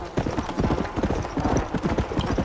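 Horse hooves clip-clopping at a steady trot in Red Dead Redemption: Undead Nightmare, a dense, fairly loud run of rapid hoofbeats with no talk over them.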